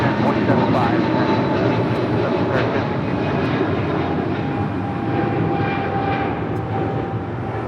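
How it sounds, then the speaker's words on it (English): A United Airlines jet arriving from Houston roars steadily as it lands at Los Angeles International Airport, a loud, broad engine rumble that holds for several seconds. "United Airlines Flight 1068 coming in from Houston"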